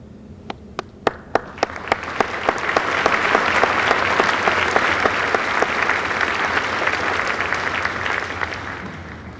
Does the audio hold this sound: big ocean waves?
no